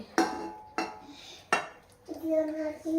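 Ceramic plates and metal spoons clink in three sharp, separate knocks while Maggi noodles are served at home, followed by a brief stretch of quieter kitchen sound.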